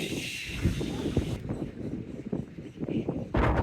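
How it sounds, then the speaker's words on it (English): Strong seaside wind at Teignmouth buffets the microphone in gusty bursts, with a voice speaking briefly underneath the blowing. "Very, very, very windy triangle."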